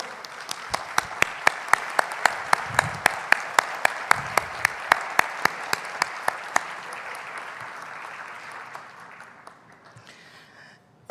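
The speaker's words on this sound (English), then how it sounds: "Please stand up to give you a big applause, our 20-track rapporteurs." An audience at the 61st ISOCARP World Planning Congress applauds the track rapporteurs. Steady clapping carries sharp, evenly spaced louder claps, then thins and fades toward the end.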